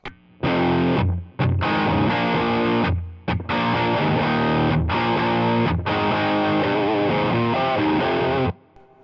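An electric guitar played through a PRS Mayer J-MOD 100 amp on a raunchy distorted setting, thick sustained chords with a few short gaps and abrupt stops, loud and up close with no talking.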